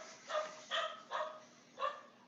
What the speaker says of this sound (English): My dog is insisting on barking at everything tonight.